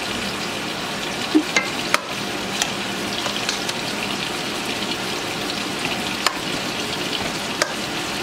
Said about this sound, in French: Et je vais juste aller faire revenir ça, juste pour m'assurer qu'il n'y a plus d'acidité.